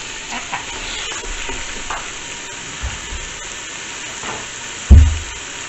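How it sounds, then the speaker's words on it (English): Chicken browning in a pan with a steady, low sizzle and occasional stirring scrapes, ending in a louder clunk near the end. "so we're gonna go ahead and brown our chicken now."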